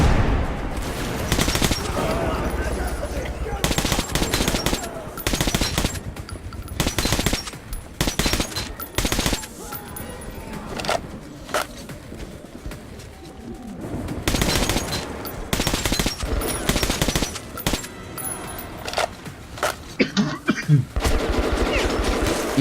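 Automatic weapon fire in the video game Metro 2033 Redux, with repeated loud bursts of rapid shots, some dense and sustained, broken by brief pauses and occasional explosions or impacts.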